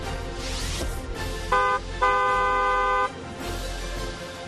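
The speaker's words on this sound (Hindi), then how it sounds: "अकेलापन दूर करने के लिए हॉर्न बजाइए" Two car horn honks sound close by, a short toot followed by a longer held blast, over low traffic rumble.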